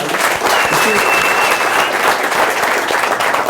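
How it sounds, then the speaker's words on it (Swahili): Dense, sustained clapping from a crowd rolls on steadily throughout, loud and unbroken, with faint voices mixed beneath. "Round of applause"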